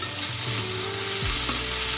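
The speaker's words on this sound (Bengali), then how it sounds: "আমি কিন্তু এটা মাঝে মাঝে ভালো করে নাড়াচাড়া করে নিচ্ছি।" Garlic cloves sizzle and crackle steadily in a hot pan while being stirred, scraping sounds cutting through the continuous frying hiss.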